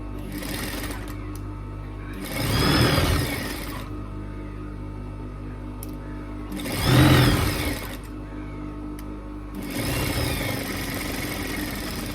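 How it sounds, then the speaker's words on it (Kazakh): A sewing machine runs in three short bursts of stitching through fabric beside a concealed zipper, each lasting a second or two over a steady background hum, with quiet pauses between them. "тігіс беріп жіберемін."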